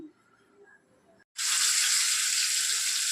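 Fish pieces coated in masala drop into hot oil in a kadai for a fish fry, bursting into a loud, steady, close sizzle after a brief quiet moment.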